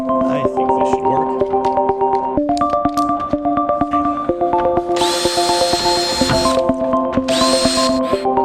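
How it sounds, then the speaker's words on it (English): Small holes for wires being drilled into a bonsai clock pot, with a power drill whining in two sustained bursts near the end over a steady background of tonal hum and light clatter, and a voice talking. "first I'll drill some of the small holes for the wires to go through"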